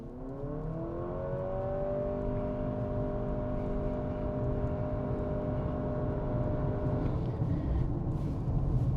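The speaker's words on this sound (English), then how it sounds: "we'll go from a stop, give it some gas," A 2025 Honda CR-V Hybrid AWD pulls away from a standstill, its engine and drivetrain rising in a steady, smooth whirring pitch that climbs for several seconds, heard from inside the cabin at moderate volume.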